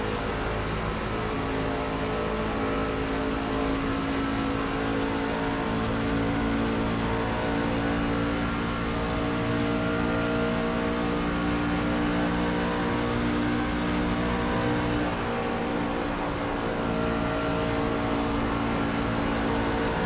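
Race truck in iRacing roars continuously at high revs, a dense steady engine whine with small shifts in pitch and no speech over it.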